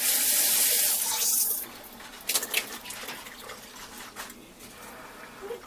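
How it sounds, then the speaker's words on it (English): Pineapple juice pours into cake batter, a brief steady splashing stream that stops after a second and a half, followed by quieter clinks and handling sounds. "I'm pouring the juice of the pineapples in,"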